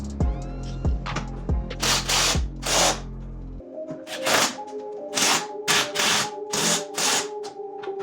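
A power tool snugs up 13mm bolts on a BMW 335i coilover, coming as several short bursts of whirring and clicking in a garage, close and fairly loud.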